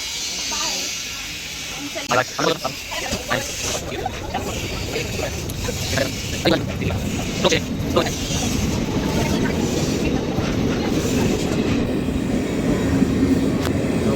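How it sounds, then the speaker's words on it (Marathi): A passenger train in Mumbai rumbles and clatters as it pulls away, its noise building steadily while people talk nearby. "आमची आता ट्रेन निघाली आहे बघा."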